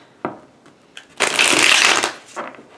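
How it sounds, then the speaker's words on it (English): Thin illustrated oracle cards are shuffled by hand: a brief riffle, a few light taps and flicks, then a dense, crisp burst of close, loud shuffling before the cards settle. "they're really hard to shuffle because they're very thin"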